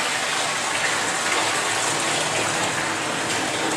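Water gushes from a sink tap into a bucket on a dairy farm, a steady, close and fairly loud rush that continues without a break.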